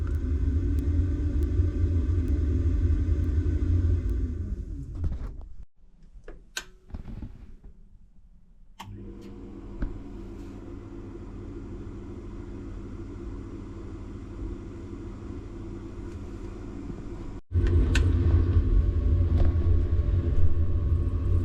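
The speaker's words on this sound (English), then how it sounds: "It did just fire up, but the pump was making an awful squealing noise." A loud mechanical pump runs with a deep steady rumble, cuts out briefly, then starts again and keeps droning, surging louder near the end.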